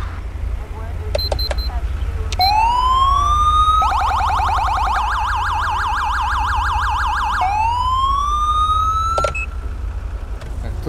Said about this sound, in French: Lui aussi, il a la bonne sirène.